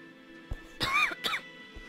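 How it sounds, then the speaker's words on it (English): Two quick, close coughs burst out one after the other, with soft throat and breath noises around them in an otherwise quiet room. "I coughed."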